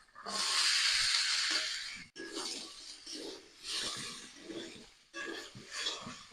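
Potatoes and peas dropped into frying masala set off a loud burst of hissing steam that fades, followed by a few shorter rushes of sizzle, close up with no speech.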